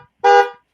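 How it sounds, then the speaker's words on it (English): A single short car horn honk, loud and close, lasting under half a second and fading quickly. "Honk. Honk, honk."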